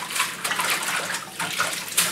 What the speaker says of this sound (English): The green should be clean, but I will rinse them twice.